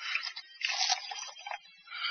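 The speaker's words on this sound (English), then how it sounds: "Clerk, pour the witness a glass of water." Water being poured into a glass for a courtroom witness, a short close splashing trickle with a pause partway through and no voices over it.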